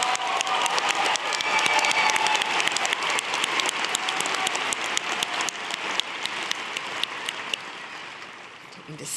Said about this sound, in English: Oh, so we should applause.